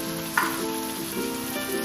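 Shrimp go into a hot pan of sayur cabe ijo with green chilies, giving a steady close sizzle with a short splash as they land.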